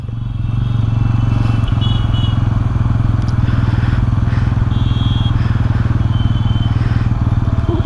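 A Bajaj Pulsar N160 4V motorcycle idles along in gear with the clutch fully released and no throttle, its steady engine drone loud and continuous throughout.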